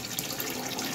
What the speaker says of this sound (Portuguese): Tô fervendo água agora pra colocar aqui na pia e esperar ela descer.